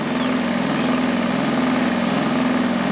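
An electric motor fitted to a converted Toro lawn tractor runs steadily, a close continuous whirring hum with a faint pulsing texture and no other sounds.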